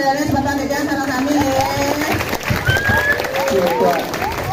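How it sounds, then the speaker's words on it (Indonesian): Audience applause at a Balinese temple, Pura Puseh, during a comedy performance, lively clapping and crowd noise mixed with chatter and cheering, with people talking and calling out over it throughout. "Ah, tepuk tangan."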